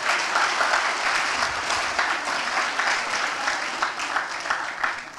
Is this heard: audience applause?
yes